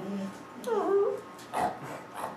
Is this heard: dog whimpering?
yes